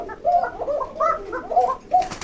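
A caged pigeon coos in a run of soft, rolling calls close by, repeating several times over a couple of seconds with brief pauses between phrases.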